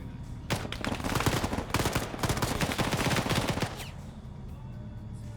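Rapid bursts of automatic gunfire in a battle video game, loud dense volleys of machine-gun fire and rattling shots for several seconds before easing off into a quieter background.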